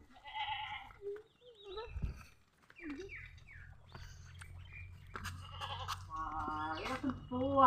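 Goats bleat several times in quavering calls, with a low steady hum of voices or engine underneath and a few other animal sounds mixed in.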